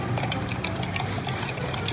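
A spoon stirs a mixture for alcoholic boba to dissolve it, giving a steady swirl of liquid with faint utensil clinks against the container, close and continuous.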